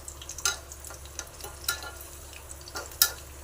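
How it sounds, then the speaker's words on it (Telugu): Cashews and raisins frying in a pan, with a soft, low sizzle broken by sporadic spoon scrapes and light clicks from stirring, fairly quiet and close. "ఇప్పుడు జీడిపప్పు, కిస్మిస్ వేయించుకొని అందులోకి వేయాలి."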